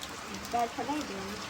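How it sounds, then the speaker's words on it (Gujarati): Heavy rain falls steadily as a broad, even hiss, with a few brief voices speaking over it. "જોવો તમે વરસાદ જોરદાર ચાલુ થઈ ગયો છે"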